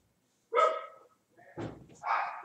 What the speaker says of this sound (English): if you hear any barking upstairs